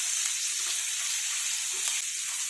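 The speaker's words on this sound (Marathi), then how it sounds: "हे सर्व आता आपण तेलात परतून घेऊयात।" Asafoetida, turmeric and chili paste sizzle steadily in hot oil, a loud, continuous frying hiss up close with faint stirring and no talk.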